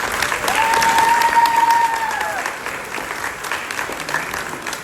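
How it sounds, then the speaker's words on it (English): Sustained applause from a room full of people at an evening gathering, loud and dense at first and then tapering slightly, with a sustained whistle rising above the clapping early on. "huge round of applause."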